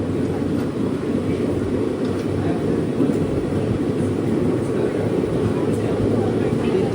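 A passenger train pulls out of Thalassery station, heard from on board as a loud, steady broadband rumble and rush that continues unbroken, with faint voices in the background.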